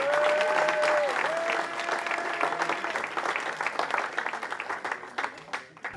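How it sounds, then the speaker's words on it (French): Applause from an audience at a chocolate and pastry fair in Vannes swells at once and carries on as a dense patter of clapping hands, thinning and fading toward the end, with a faint tonal whine early on. "Est-ce qu'on peut applaudir pour monsieur Jean-Paul Evin, s'il vous plaît?"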